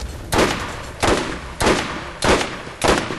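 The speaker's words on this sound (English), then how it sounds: "They're kind of shooting at us," Enemy gunfire in the video game Borderlands, five evenly spaced loud bursts of shots roughly every half second to second, each ringing out over a low background rumble.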